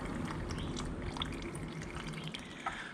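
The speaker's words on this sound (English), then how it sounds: "Don't drop the oil filter straight away, let it drain a bit" Engine oil drains from a 2015–2016 Kawasaki Vulcan 650 into a pan, a steady trickling pour with small drips and splashes near the mic.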